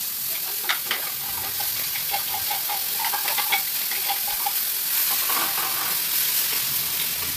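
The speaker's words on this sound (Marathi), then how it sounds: "आता तेल गरम झालेलं, आता आपण भाजी टाकूया" Grated vegetable fries in hot oil with a steady close sizzle, scattered ticks and crackles, and occasional light scrapes of stirring; no voices.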